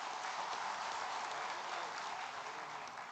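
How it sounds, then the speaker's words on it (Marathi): An audience at a Shiv Sena political gathering gives a steady, dense round of clapping for Paresh Dabholkar, a continuous, fairly distant wash of many hands with no voices on top. "त्या परेश दाभोळकरांसाठी पुन्हा एकदा जोरदार टाळ्या वाजवा."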